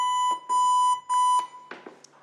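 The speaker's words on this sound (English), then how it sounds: "machine will give me 100 beeps. And I have to match with the beep" A CPR assist device, a training unit that paces chest compressions, gives out a few clear electronic beeps at a steady tone, close and loud, then falls quiet apart from faint handling clicks.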